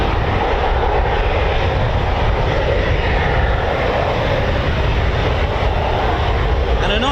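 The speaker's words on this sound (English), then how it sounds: "Of course, we've got the RAF Typhoon display team," An RAF Eurofighter Typhoon FGR4 jet roars through a display at RAF Coningsby, a loud, steady, near broadband engine rumble that holds throughout.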